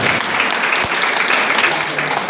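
Loud clapping from an audience at a Tamil debate (pattimandram) on agriculture, a dense continuous patter of many hands filling the whole span, with faint voices mixed underneath.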